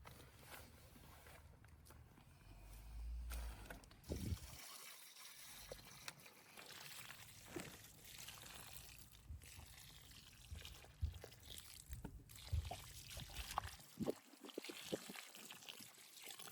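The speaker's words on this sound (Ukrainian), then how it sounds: "Далі додамо води." Water is poured onto loose soil around a freshly planted bare-root rose, giving faint soft trickling and splashing at close range, interrupted by quiet shuffling steps and handling noises.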